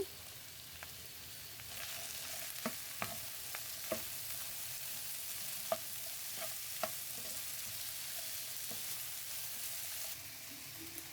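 Potatoes stir-fried in a pan give a soft, continuous sizzle, broken by scattered sharp taps and scrapes of a spatula against the metal, with no talk over it.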